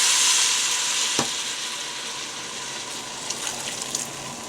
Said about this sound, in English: we're going to go ahead and mix this up until the rice has absorbed most of the liquid, stirring constantly